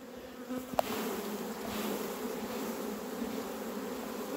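Honeybees from a small nuc hive buzz in a dense, steady drone as a frame is shaken, with a sharp knock near the start and the swarm hum continuing alone at moderate volume.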